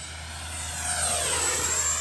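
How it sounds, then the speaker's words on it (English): An FMS F-16 Thunderbirds 64mm electric ducted-fan RC jet makes a full-speed pass, its high whine building and sweeping in pitch as it rushes by fairly close. "let's go full speed pass. Let's see how she goes. Power's on."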